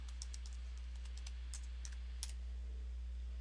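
Quick typing on a computer keyboard, a short run of light, close key taps over a steady low electrical hum, with no talking.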